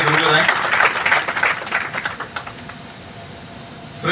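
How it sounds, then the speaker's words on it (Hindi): Attendees at a business chamber's annual general meeting break into loud applause that thins out after a couple of seconds into scattered claps and room noise. "मैं चाहता हूँ जोरदार तालियां प्लीज"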